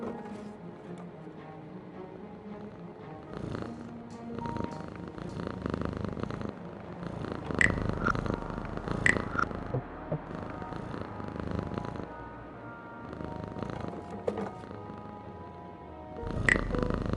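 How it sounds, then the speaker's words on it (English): A cat purring inside the video game Frequency Missing, a steady low rumbling purr running continuously under soft game background sounds with a few brief brighter clicks. "There's a cat by an open window up there."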